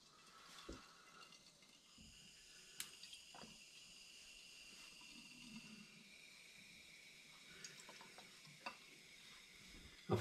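Hard pear and rose cider fizzing as it reacts to added sugar, a faint, steady hiss of bubbles with occasional soft clinks and handling noises, close but very quiet.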